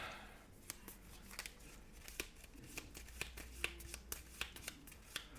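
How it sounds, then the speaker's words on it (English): Playing cards for the Aeon's End card game are shuffled close by and quietly, a run of soft riffling and crisp snapping taps in an irregular rhythm against a low, hushed room background. "Shuffle, shuffle, shuffle, shuffle, shuffle, shuffle, and we will shuffle some more."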